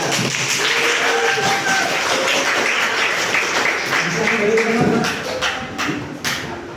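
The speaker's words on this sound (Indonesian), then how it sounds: "silakan berikan aplaus pada kelompok 3" A classroom gives sustained applause for a student group, a steady patter of many hands clapping with voices talking over it.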